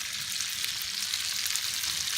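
Fillet steak sizzles in butter in a pan, a steady, dense, close crackling hiss that holds even throughout with no voices.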